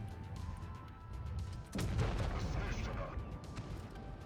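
A single heavy cannon shot from the Enforcer tank destroyer booms out in World of Tanks Blitz, its deep blast rolling and fading under a steady engine rumble, with a voice speaking.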